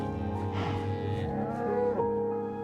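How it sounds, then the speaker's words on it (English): Cows mooing in a farming video game, several long, low, drawn-out moos overlapping one after another, loud and near with a faint musical backdrop. "There's all my cows."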